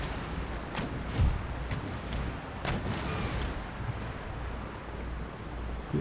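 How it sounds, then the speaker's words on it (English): Sailing warships fire cannon broadsides in Empire: Total War, a dense, continuous rumble of booming gunfire with a couple of heavier blasts rising out of the roar. "There's a good broadside right there."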